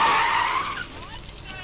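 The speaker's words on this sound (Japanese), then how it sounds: "アクセルを早く抜きすぎちゃったんですね。 それで内側に吸い込まれてガーンとぶつかってしまったわけですね。" A drifting car on a mountain pass skids with a loud, close tire squeal that fades and thins out over under two seconds.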